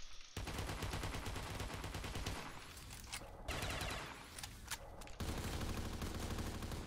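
A KG M21 rifle fires in a winter-map video game gun-game match, with several sustained automatic bursts separated by short pauses, heard alone and fairly faint.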